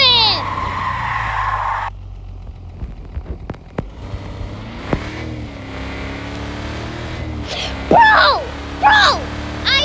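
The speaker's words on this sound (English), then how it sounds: "I'm also gonna drift." A 2026 Audi Sportback petrol in a driving video game holds a steady engine drone through a drift, with tyre and motor noise under excited voices talking over it.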